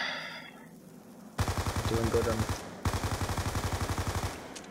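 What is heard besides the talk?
gunfire in a video game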